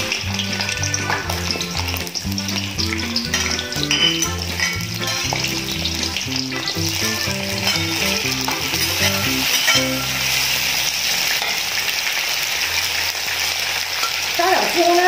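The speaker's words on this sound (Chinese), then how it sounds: "所以我们现在我们把这些材料全部拿去炸一下" Crab and tomato ingredients deep frying in hot oil, a loud, continuous sizzle and crackle with occasional stirring, heard alone for the full stretch.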